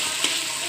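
Fried chicken and noodles stir-fried for chowmein give a steady, close hiss of sizzling oil with a faint scrape of stirring, and nobody talks.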